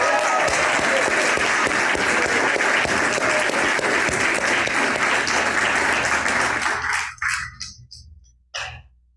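A church congregation bursts into loud, sustained applause and cheering that fills the room for about seven seconds, then thins into a few scattered claps as it dies away.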